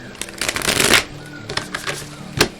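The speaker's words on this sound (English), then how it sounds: "let's get one more shuffle here" Tarot cards are shuffled up close: a long riffling burst of crisp card flutter, then several shorter slaps and riffles, fairly soft overall.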